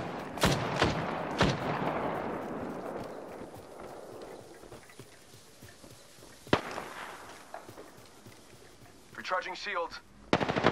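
Apex Legends gunfire, sharp loud shots at the start followed by a decaying rumble, a single crack midway, then rapid bursts near the end, with a voice speaking briefly.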